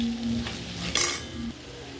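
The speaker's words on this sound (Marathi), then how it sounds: "हे बघा, मसाला असा मस्त छान फ्राय झाला आहे" Spice masala of Kolhapuri masala, red chilli powder, turmeric and coriander powder frying in oil for a chicken curry, a low steady sizzle with a brief scrape of stirring midway.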